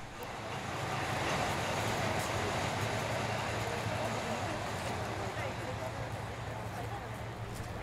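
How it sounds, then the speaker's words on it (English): A TU7 diesel locomotive running round its train at Torpantau station on the Brecon Mountain Railway, heard as a continuous loud engine rumble and rolling noise that stays steady throughout. "The train waits for approximately 15 minutes at Torpantau, enough time to allow the locomotive to run round."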